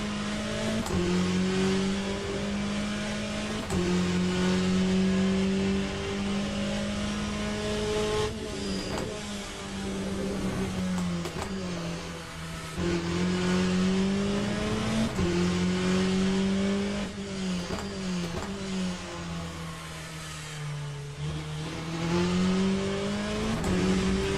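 Race car engine in the Le Mans Ultimate racing game, a loud sustained drone that climbs and dips through gear changes with occasional tire squeal, running continuously with no talk over it.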